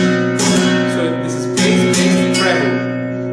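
A flamenco guitar is strummed up close with strong rasgueado strokes, loud bright chords struck in quick downward and upward sweeps, the bass strings ringing fuller on the downstrokes, with no talk.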